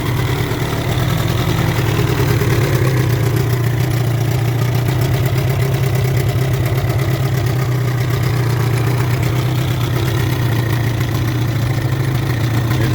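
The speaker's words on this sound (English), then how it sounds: "And it'll idle good again, and it'll start loading up again." A 1973 Johnson 20 hp outboard motor idles steadily and loudly up close, its low rough drone running unbroken and slightly labouring as it loads up.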